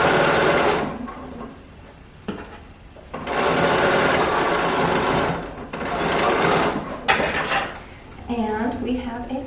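A sewing machine closes a small opening on a baby garment in several short bursts of rapid stitching separated by pauses, with someone talking during the gaps and after the last run.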